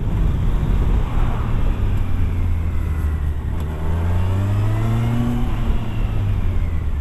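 A Kawasaki Versys 1000 motorcycle accelerates hard, its engine note climbing in pitch through the gears with a brief dip between shifts, loud and close amid wind noise.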